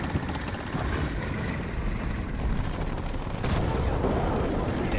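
In the War Thunder tank game, an artillery strike lands as a dense, rumbling barrage of blasts that runs nonstop and fills the whole stretch loudly.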